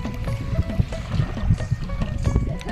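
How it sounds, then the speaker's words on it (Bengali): Gentle river waves lap and slosh against a small fishing boat on a Sundarbans river, a steady soft watery wash with low knocks, some wind, and faint voices in the background. "দেখুন ঢেউটা কত সুন্দরভাবে ঢেউ আসছে"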